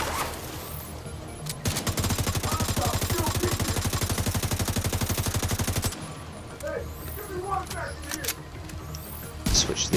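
Rapid automatic gunfire in The Division 2 rattles in a fast continuous burst lasting several seconds, followed by scattered single shots and game effects.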